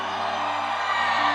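A church congregation shouts a sustained cry of victory, a dense, continuous roar of many voices heard together at moderate loudness.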